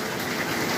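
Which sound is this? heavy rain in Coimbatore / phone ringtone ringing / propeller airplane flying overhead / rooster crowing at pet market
heavy rain in Coimbatore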